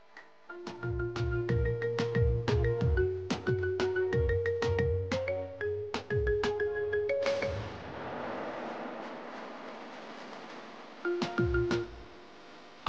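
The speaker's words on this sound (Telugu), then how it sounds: "సీత ఒకసారి శ్రావణ్కి ఫోన్ చేసి వెళ్ళారో లేదో కనుక్కో." A phone ringtone plays a bright repeating electronic melody of short chiming notes, loud and close, then stops into a soft hiss before a few more notes sound near the end.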